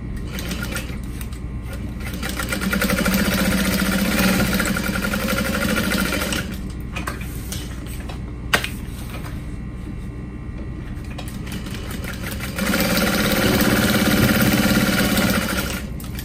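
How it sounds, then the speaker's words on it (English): A sewing machine runs in two long bursts of top stitching on a duffel bag, steady and close, with a quieter pause between runs. "And then I'm gonna top stitch."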